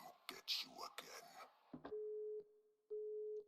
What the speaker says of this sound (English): Don't leave the phone ringing so long